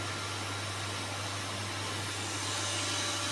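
A Dusan 4-axis CNC machine with an A-axis and 1.5x bed runs at a steady level, giving a constant broadband whir over a low, even hum with no pauses or distinct strokes.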